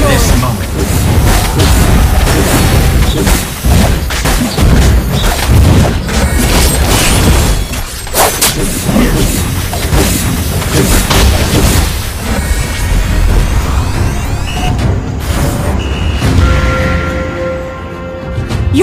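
A turret being destroyed in the Mobile Legends video game, with heavy booming blasts and crunching battle effects packed into loud, continuous combat noise while character voice lines play over it.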